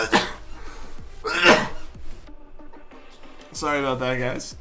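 A single sharp sneeze bursts out near the start, followed by a person talking apologetically and another throaty vocal noise.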